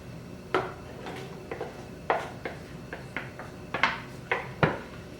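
Vegetables tipped into a pot and stirred through gravy with a spoon, giving a string of sharp clinks and scrapes against the pot in an irregular rhythm, close and fairly loud, with no talking.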